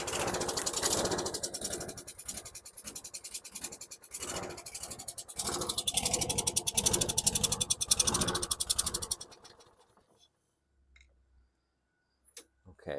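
A 2010 Lawn-Boy rear-wheel-drive lawn mower engine runs roughly and starves for fuel, sputtering in an uneven rattling chug up close. It then dies away into near silence with a few faint clicks.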